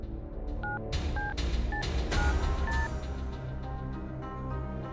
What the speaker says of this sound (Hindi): अभी रिया को फोन लगा।